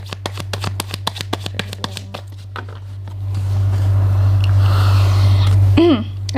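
Tarot cards shuffled by hand in a rapid run of crisp riffling flicks, then a softer continuous rustle of sliding cards over a steady low hum, close to the listener.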